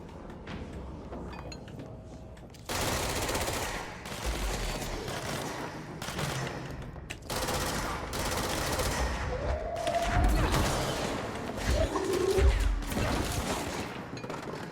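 Rapid bursts of gunfire in the video game Control, loud and dense, coming in several sustained volleys with crashing impacts between them, no voices over it.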